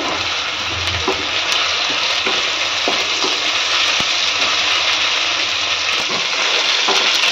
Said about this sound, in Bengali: এবার এর মধ্যে দিয়ে দেবো একটুখানি আদা রসুন বাটা, দিয়ে আবার নেড়ে চেড়ে নেব